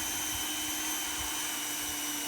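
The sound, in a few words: drill drilling hole in plastic bin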